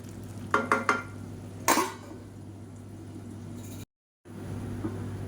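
A green gram mixture stirred and sautéed in an oiled pan, with a few brief scraping bursts of the spoon early on over a steady low hum, then quieter frying before a short silent gap.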